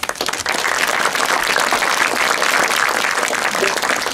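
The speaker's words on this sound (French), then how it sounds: "Merci de l'applaudir." A conference audience applauds as a nutrition professor and historian is welcomed, a full steady wash of clapping from a seated crowd that swells in after a brief start and holds throughout.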